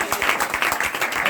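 A church congregation at a Christian worship meeting claps together, a brief burst of fairly close, moderately loud hand claps running as a quick uneven patter, with a voice also present.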